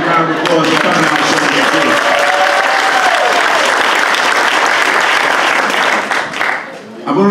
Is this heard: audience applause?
yes